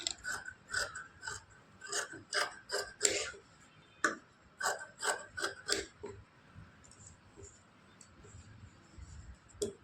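Small scissors snipping loose threads off a blouse, a quick series of crisp close snips in bursts, then quieter scattered cuts and handling.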